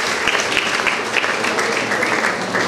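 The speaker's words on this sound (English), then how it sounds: "You give big round of applause for her." Audience applause at a Rotary school ceremony honouring top 10th and 12th grade students, a dense steady clapping held at an even level across the whole stretch with no voices over it.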